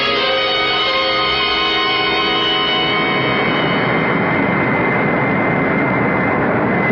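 Steady, loud drone of an airplane engine in flight as a radio-drama sound effect, a dense continuous roar with a tonal hum that holds evenly for several seconds, no voices over it.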